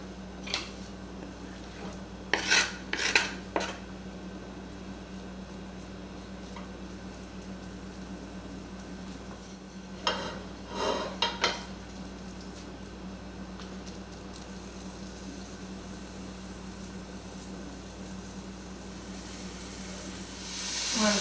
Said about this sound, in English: We're going to put in this 5 to 7 strips of bacon all chopped up and get that browned.